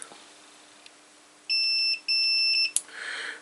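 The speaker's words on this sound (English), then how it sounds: "now when I measure between the two pins of the AC connector," A multimeter gives a steady high-pitched continuity beep in two bursts while probing the two pins of the AC connector on a Saba 8070 tuner amplifier under repair, with light handling clicks around it.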